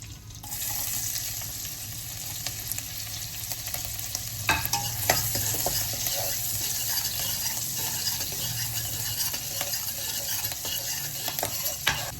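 Garlic and green chillies stir-fry in a hot pan for veg hakka noodles, a steady sizzle with a utensil scraping and clinking now and then, close and continuous with no talk.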